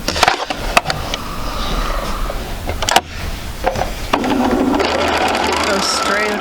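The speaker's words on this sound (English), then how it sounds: "we'll sew opposite sides first" A sewing machine stitches quilt pieces together along opposite sides, its motor whirring in bursts with brief pauses and fabric handling between runs, close and fairly loud.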